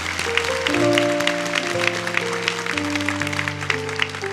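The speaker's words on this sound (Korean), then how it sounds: "귀한 말씀으로 십자가의 희망을 선물해 주신 이명규 목사님께 다시 한번 박수로 감사의 마음을 전하겠습니다." A church congregation applauds a pastor at a special early-morning revival service, the clapping running steadily through the clip beneath sustained keyboard or organ chords.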